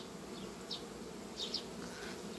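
Honey bees buzzing in a hive fitted with foil to collect condensation, a soft continuous hum with a few brief nearer buzzes from individual bees passing close, faint overall and without voices.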